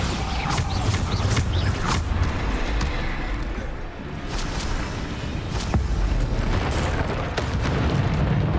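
Bombarda spell blasts in Hogwarts Legacy combat, booming impacts and crunching bursts over a dense, continuous wash of battle noise and rumbling effects.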